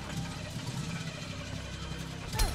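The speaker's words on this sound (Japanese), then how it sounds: "エンジンずっとかけてます" A car engine idles continuously in Friday the 13th: The Game, a steady rough rumble that keeps running throughout, with a brief louder swell near the end.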